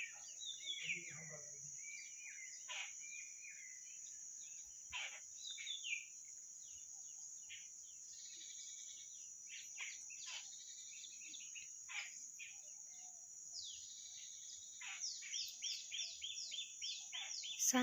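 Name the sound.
sparrows chirping in a quiet resort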